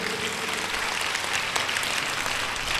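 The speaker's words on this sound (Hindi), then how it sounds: "पहले तो इस बच्ची के लिए ताली बजाओ" Audience claps for a girl at a spiritual discourse, a steady dense wash of applause filling the whole moment with faint voices underneath.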